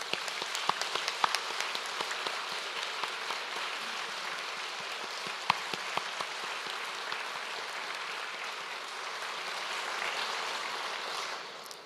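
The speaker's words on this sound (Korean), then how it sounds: "여러분 큰 격려의 박수 보내주시기 바랍니다" Audience applause at a Korean presidential event, a sustained dense patter of many hands clapping, steady and fairly loud throughout with scattered sharper claps and no speech.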